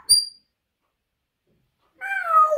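A parrot, a cursing talking bird, gives a short catlike meow, a brief chirp followed by a longer wavering, falling meow call, close and clear against silence.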